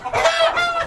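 Chickens being caught at a poultry farm cluck busily, a short, steady burst of close, fairly loud hen and rooster calls with no talk over them.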